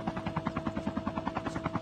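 A video-game helicopter drones steadily, its rotor chopping in a rapid even pulse at moderate loudness, with no speech over it.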